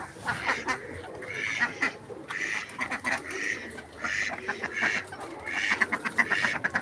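An Indian Runner duck quacks repeatedly in short, rhythmic bursts close by, with several calls in quick runs over a quiet farmyard background.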